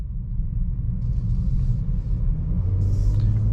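A 2023 Audi S5 Sportback Premium Plus drives along in comfort mode, its engine and exhaust producing a steady low rumble with road noise from inside the cabin.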